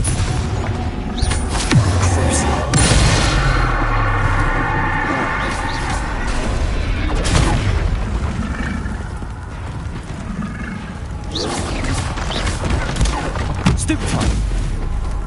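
Spell blasts in Hogwarts Legacy combat, a dense run of booming explosions and crackling impacts layered over loud game music and effects, with several heavy hits through the stretch.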